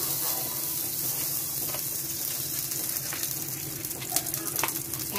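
Butter sizzles in a frying pan with a steady, bright crackling hiss that flares slightly near the end, and no voices.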